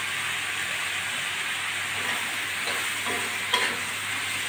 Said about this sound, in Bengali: আমি 10-12 মিনিটের মতন ভালো করে নাড়াচাড়া করে ভাজি করে নেব